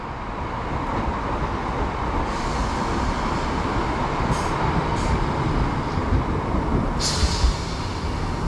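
A British Rail Class 319 electric train rolls into a Merseyside station, a steady broad rumble of wheels and traction with a few brief high squeals of brakes toward the end.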